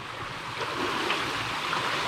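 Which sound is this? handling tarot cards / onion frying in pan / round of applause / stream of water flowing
stream of water flowing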